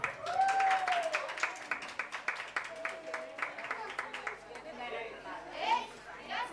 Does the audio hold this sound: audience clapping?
yes